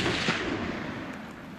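A single .270 rifle shot fired outdoors while hunting red deer in New Zealand, a loud blast at the start that rolls off into a fading echo over about a second and a half.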